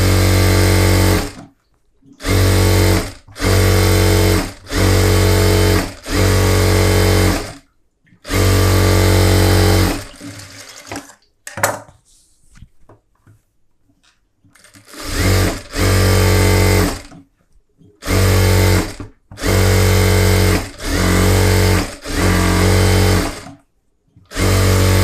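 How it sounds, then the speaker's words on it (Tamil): A sewing machine stitches around a blouse collar in loud, close bursts of a couple of seconds each, separated by short pauses. A longer quiet stretch in the middle holds faint handling of the fabric. "இப்போ சுற்றி தையல் போட்டுடலாம்."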